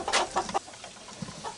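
Hens clucking inside a chicken coop that doubles as a compost pile, a few short close clucks and murmurs in quick succession with faint farmyard background.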